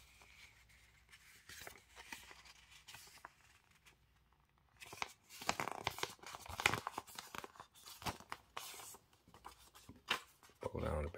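A sheet of paper folded in half and creased by hand, crisp rustles and sharp crinkling swipes up close, quiet at first and then busier and louder.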